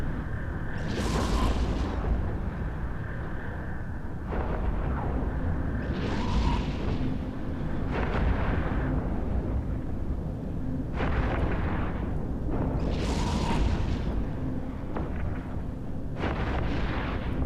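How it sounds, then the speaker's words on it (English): In EVE Echoes, the Dominix starship and surrounding weapons produce repeated heavy booming bursts, roughly every two to five seconds over a constant loud rumbling space-combat drone. "And the Dominix has been destroyed."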